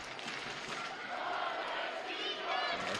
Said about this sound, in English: That's Mendez now hearing it from the New Mexico home crowd